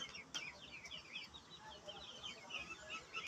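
Native Bangladeshi chickens cluck softly in a small farmyard, with repeated short chirpy calls and background bird noise running throughout, no voices over them.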